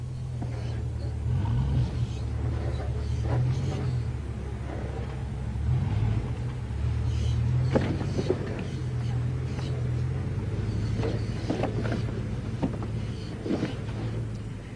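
An off-road vehicle crawls slowly over obstacles on rough terrain, a steady low engine rumble with a drone throughout, broken by occasional knocks and bumps as it inches along.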